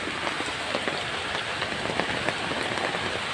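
Hailstones fall during a hailstorm in a dense, continuous rattle of impacts, steady and loud, with scattered sharper hits standing out against the constant patter.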